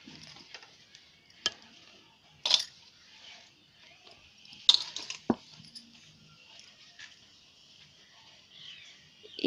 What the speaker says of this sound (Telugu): ఇలా బియ్యం పిండి ఉండలు లేకుండా ఉండేటట్టు నీట్గా మిక్స్ చేసుకోవాలి.